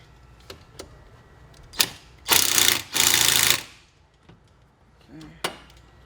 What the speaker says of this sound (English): I'm just gonna take my 3/8 impact with a 14mm socket